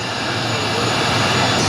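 A passenger airplane's engine keeps running after landing at Jaffna airport, a loud, steady roar with a broad whine that holds without pause.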